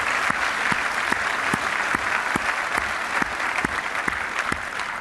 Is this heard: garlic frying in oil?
no